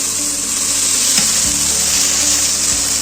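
Ginger paste being sautéed in a pan, a loud, dense sizzle with steady stirring scrapes, close and continuous throughout.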